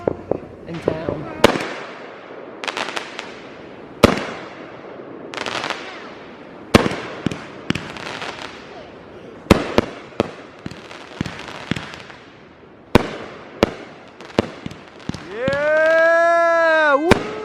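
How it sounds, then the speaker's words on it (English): Neighbors' fireworks going off at night near a cabin outside Blairsville, Georgia: a series of sharp, loud bangs and crackling bursts at irregular intervals, with people cheering between them and a rising whistle near the end. "Our neighbors literally have the best fireworks in town."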